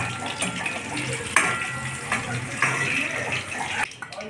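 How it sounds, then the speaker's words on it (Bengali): Cut potatoes fry in hot oil for the Bengali dish muri ghonto, giving a steady loud sizzle with a few sharp spikes and a drop near the end. "মুড়ি ঘন্টর জন্য কেটে রাখা আলুগুলোকে এখন ভেজে নেওয়া হচ্ছে।"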